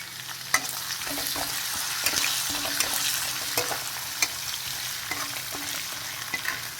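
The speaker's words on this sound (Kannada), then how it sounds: "ಇದಾದಮೇಲೆ ನಾನು ಕರಿಬೇವಿನ ಸೊಪ್ಪು ಹಾಕ್ತಾಯಿದ್ದೀನಿ" Curry leaves sizzle and pop in hot oil in a pan, with crackling bursts and scraping stir sounds over a constant frying hiss, close and alone.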